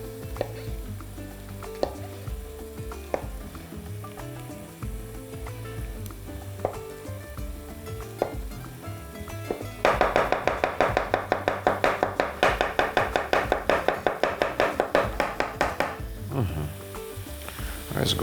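A knife chops 300 grams of agaric mushrooms finely on a board, starting as a fast, even run of close, sharp taps after quieter kitchen clatter and handling noises.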